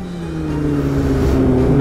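A Kawasaki ZX25 motorcycle engine hums with a steady, buzzing, mosquito-like drone that climbs slightly in pitch, reflecting off a nearby car, with no talking.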